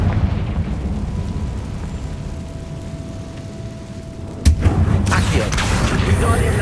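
Confringo fire-blast spell cast in Hogwarts Legacy, one sharp booming explosion bursting out of steady rumbling game ambience, followed by a fainter crackling tail.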